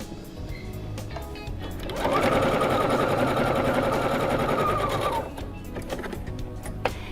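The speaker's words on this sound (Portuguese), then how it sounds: "Eu vou costurar agora aqui, deixando um pedacinho para desvirar." A sewing machine stitches a fabric pouch in one steady, rapid run of about three seconds, close and loud, with quiet handling of cloth before and after.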